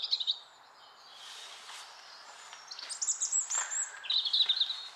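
Several birds chirp and sing outdoors in a quiet spot, bright repeated calls coming and going, growing busier toward the end with no one talking.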